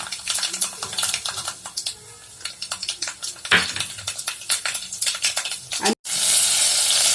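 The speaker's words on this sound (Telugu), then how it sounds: "ఆయిల్ వేడైన తర్వాత అందులో టీ స్పూన్ పోపు దినుసులు వేసుకోవాలి" Tempering spices sizzle and crackle in two tablespoons of hot oil for a rasam, with dense popping bursts and occasional stirring clatter, a sharp cut near the end followed by a louder, smoother hiss.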